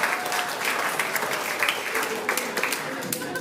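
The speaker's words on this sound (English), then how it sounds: "Oh, round of applause for you two." A game show audience at a grand final applauds two contestants, sustained crowd clapping with a faint voice or two mixed in beneath.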